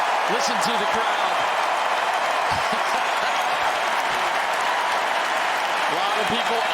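US Open tennis crowd applauding and roaring in a big stadium, a loud sustained wash of clapping and cheering with scattered thumps beneath it.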